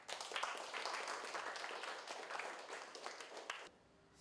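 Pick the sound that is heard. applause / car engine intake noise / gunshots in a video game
applause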